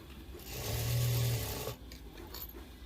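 A sewing machine stitches cloth for a latkan, one steady motorized run of about a second rising and fading, close and fairly loud, followed by quiet handling sounds.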